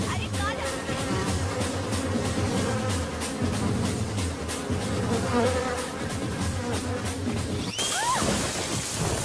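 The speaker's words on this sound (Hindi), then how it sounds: "ये मक्खी नहीं मधुमक्खी है।" A honeybee buzzes loudly and close, a steady droning hum that persists throughout, joined by a few higher whining passes near the end, with no clear talk over it.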